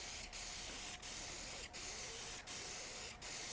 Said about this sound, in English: Okay, and now we're spraying.